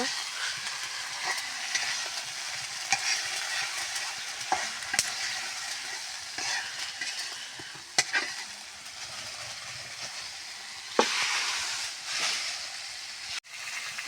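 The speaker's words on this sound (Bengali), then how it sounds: "এখন বেগুন দিয়ে সুন্দর করে মশলার সঙ্গে কষিয়ে নিব" Brinjal sautéed with spices in a pan over a clay stove, giving a loud, steady frying sizzle with a broad hiss and occasional sharp clacks of a stirring spoon against the pan.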